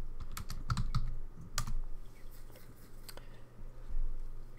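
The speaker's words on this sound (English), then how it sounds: "I can type." Someone types on a computer keyboard while writing Python code: a close, quiet burst of quick clicking keystrokes, then a pause, then a few more scattered taps, with no speech.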